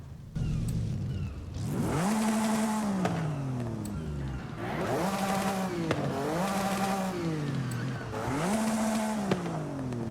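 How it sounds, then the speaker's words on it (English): Simulated engines of a 1991 RWB Porsche 911 Turbo with a 4.0L flat-six swap rev hard in a video game, repeated bursts, pitch climbing and dropping in three loud, sustained cycles with brief pauses between. "So I'm just going to rev the engines as well to see if they sound any different."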